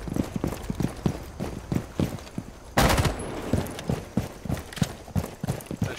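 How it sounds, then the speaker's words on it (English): A single sharp, loud burst of gunfire shoots out a house window in Rainbow Six Siege, standing out against a steady run of quick rhythmic footfall-like thuds that continue before and after. "I'll just go kill the camp and shoot out the window"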